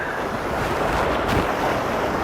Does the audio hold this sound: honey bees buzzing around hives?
no